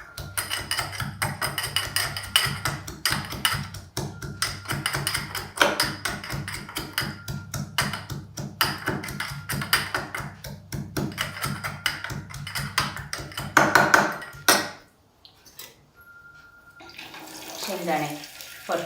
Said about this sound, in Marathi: आपण थोडंसं लसूण बारीक करून घेऊ, त्याची पेस्ट बनवायची